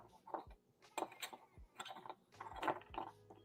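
A wrench loosens the cap on a commercial dishwasher, giving a few close metallic clicks and ratcheting turns in short bursts with small clanks between them.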